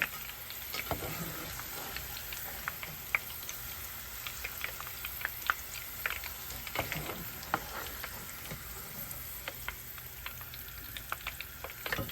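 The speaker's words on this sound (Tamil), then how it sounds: "கொவ்வைக்காயும் இந்தளவு பொரிஞ்சால் போதும்" Ivy gourd and okra fry in a pan, giving a soft, steady sizzle dotted with scattered crackling pops over twelve seconds, fairly quiet and without talk.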